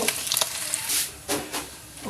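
Pork for tumbong sisig frying in a pan as its fat renders, a steady hiss with bursts of sizzle and steam, fairly loud and close, with no talk.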